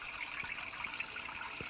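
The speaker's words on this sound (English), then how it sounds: "So you can hear the water's running" Water trickles softly and steadily through a homemade fish-tank trickle tower driven by a pump, a faint continuous splash with a few small drips.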